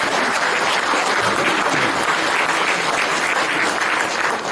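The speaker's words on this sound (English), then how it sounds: "Give yourselves a warm round of applause for that if you would." A large audience at a high school Interact Club event gives a warm round of applause, a dense, loud, continuous wash of clapping hands that holds steady from start to finish without speech.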